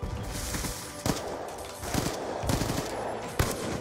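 Sniper rifle trick shot in a video game, heard as a few sharp gunshot cracks spaced unevenly over dense, continuous game noise with no talking.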